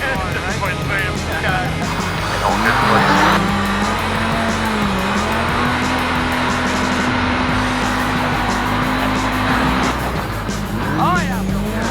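Supercharged Pro R off-road vehicle on a test drive, engine droning loud and close with a steady rising whine, tires squealing and skidding at the start and again near the end, people talking over the noise.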